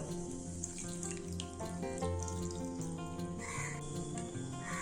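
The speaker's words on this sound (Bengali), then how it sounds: "তারপর আমি দিয়ে দিচ্ছি এর মধ্যে মেজারিং কাপের এক কাপ জল" A measuring cup of water is poured into flour, a soft, close trickling and gurgling stream with bubbly, slightly tonal splashes that carries on evenly throughout.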